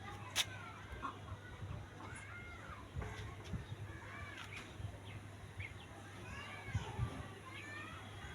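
Chickens cluck and chatter near their cage, several short calls scattered faintly over a low steady hum, with distant voices of children and people in the background.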